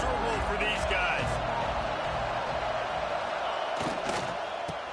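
Stadium crowd at a Clemson versus LSU college football game, a broad continuous roar of many voices with a few louder shouts, under a commentator's talk.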